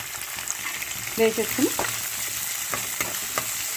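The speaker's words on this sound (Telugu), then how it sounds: "ఇలా పోపు వేయించి పెట్టుకోవాలి." Large onions fry in tempering oil for an amaranth-leaf curry, making a continuous close sizzle with a few spatula clinks and stirring scrapes over the short stretch.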